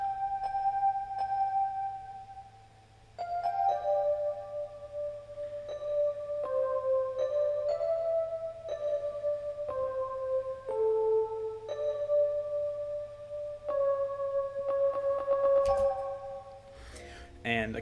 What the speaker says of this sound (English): So this is an electric piano off of the Keyzone Classic piano VST.